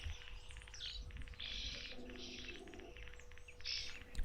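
Weaver birds chirp at an African waterhole, repeated bursts of buzzy, busy twittering from several birds at moderate distance over a low background hum.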